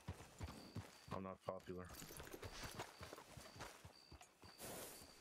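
Horse hooves clip-clop at a walk in the Red Dead Redemption 2 roleplay game, steady and fairly close, with several people talking over the footfalls.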